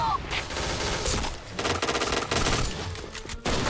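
Bursts of automatic gunfire in the shooter game Point Blank, moderately loud, in several rattling volleys with short gaps, mixed with game sounds and faint background noise.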